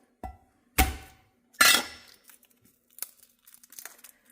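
A peeled garlic clove is mashed on a kitchen surface, giving a few sharp crunching knocks followed by faint crinkling and small clicks, close and quiet with no talk.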